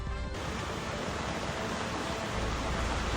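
Strong floodwater rushes through First Riverside, Barangay Palao, in Iligan during Basyang flooding, a loud continuous roar of surging water with no break.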